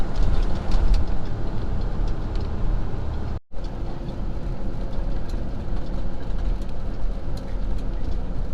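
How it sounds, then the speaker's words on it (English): A BNSF freight train hauling containers rumbles past a railroad crossing in a steady, loud roar with faint wheel clatter, heard from close by, with one brief dropout partway through. "Railroad crossing."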